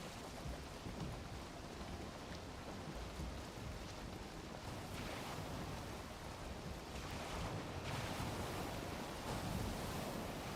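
Ocean waves roll and crash around a sailing boat in the video game Valheim, a dense continuous rumble of surf and stormy weather with swelling gusts, fairly loud and without talk.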